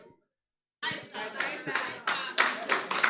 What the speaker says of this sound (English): Oh, you guys are clapping.